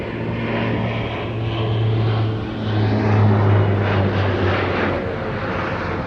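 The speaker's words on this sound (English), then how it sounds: "C-27J Spartan is a spectacular airshow performer" A C-27J Spartan twin turboprop transport performs at an airshow, its propeller and engine drone loud and continuous, swelling slightly as it passes.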